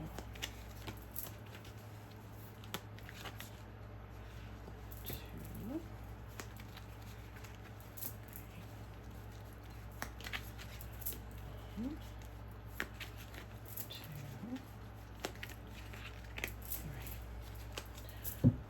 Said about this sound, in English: Now, we're going to pull 9 cards for the energy of this week.